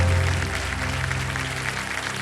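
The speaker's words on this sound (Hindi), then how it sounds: "तालियां बज जाए जोरदार।" A studio audience on the TV quiz show Kaun Banega Crorepati breaks into loud, sustained applause, a thick wall of clapping over a low steady hum.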